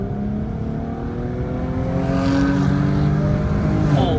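A widebody Ford Mustang's V8 purrs in a smooth, muffled idle, then swells slightly as the revs climb, producing a steady, close, deep drone.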